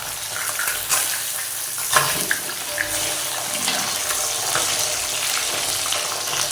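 Catfish frying in hot oil in a wok with garlic, turned over once one side is cooked: a steady, dense sizzle fills the sound, with a few sharp clacks and scrapes of the utensil as the fish is flipped.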